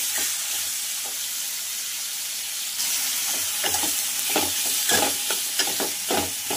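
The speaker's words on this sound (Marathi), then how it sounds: "तर मी गॅसची फ्लेम थोडी वाढवते आणि छानपैकी ते फ्राय करून घेते" Food fries and is stirred in a pan over a raised gas flame while making Vidarbha-style ukalpendy, a constant hissing sizzle that grows louder partway through, broken by repeated scraping strokes of the spoon.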